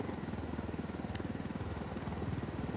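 An attack helicopter in Ghost Recon Wildlands flies overhead with a steady, loud rotor thrum. The low pulsing beat runs without a break for the whole stretch, and no voices are heard.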